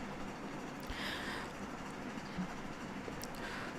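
Steam-era locomotive running in the Railroads Online game, a faint steady rumble and chuff of the train with soft clanks, distant and low throughout.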